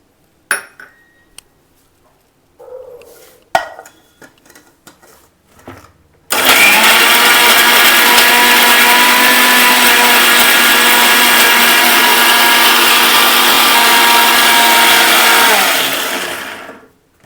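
A mixer grinder whirs loudly as it grinds tambuli paste with water, starting abruptly after some faint kitchen clinks and running steadily for about ten seconds before stopping.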